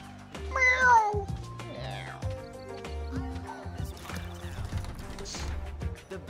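A cat meows loudly and clearly, with a high, drawn-out cry near the start, followed by quieter sounds and brief voices.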